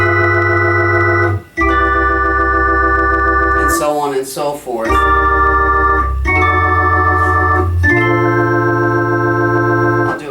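Sustained piano jazz chords move through a slow ii-V-I progression including a 13 flat 9 chord, each held for a couple of seconds, with a brief spoken phrase breaking in midway.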